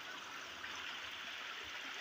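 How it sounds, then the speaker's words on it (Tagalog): Clear mountain stream water rushes steadily downhill, a close, continuous bright hiss and babble with no breaks. "Malimpyo ni duro nga tubig kay inihiya nga tubig tikang kunya ng bukid."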